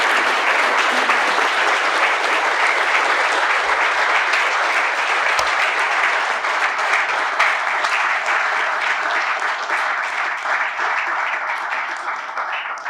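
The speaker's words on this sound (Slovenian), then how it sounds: "predlagam, da glasno zaploskate" A large audience claps loudly and continuously at a Slovenian National Council plaque award ceremony, a dense wash of applause that thins slightly toward the end.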